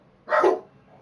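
A single dog barks once, loud and close, a short gruff bow-wow set against quiet farm-game background sound.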